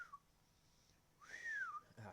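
Someone tries to whistle: a faint, wavering tone rises and falls in a short glide, then breaks off into breathy air, heard alone in a quiet room.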